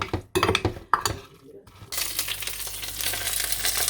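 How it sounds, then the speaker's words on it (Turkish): Steady hissing sizzle of stuffed peppers frying in a pan, starting after a few clinks and stirring knocks, then continuing loud and even. "Biberlerimi kurulayayım, kızartayım onları."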